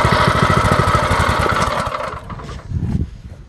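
Small drift trike engine running close by, with a rapid chugging putter that eases down, then briefly revs back up before fading.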